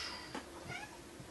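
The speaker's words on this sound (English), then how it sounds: "that was my cat" A pet cat meows briefly, a faint short cry or two, close by in a quiet room.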